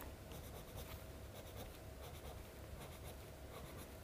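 A pencil colours on paper in steady, close scratchy strokes, quiet and continuous, with no voice over it.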